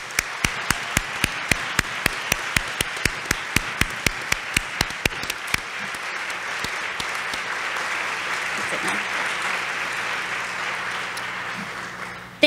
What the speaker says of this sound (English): Now let's give them that round of applause.